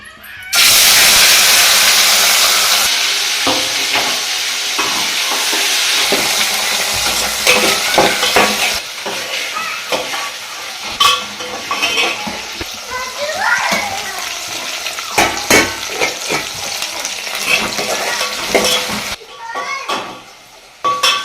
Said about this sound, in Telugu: ఆయిల్ కూడా బాగా వేడైందండి ముందుగా అయితే వెండి చేపలు అయితే ఫ్రై చేసుకుందాం